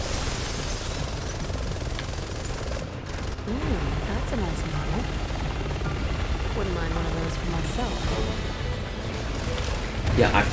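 Helicopter rotor drone in the Resident Evil 6 video game, a continuous loud whirring bed with bursts of gunfire and game effects over it, while someone talks throughout.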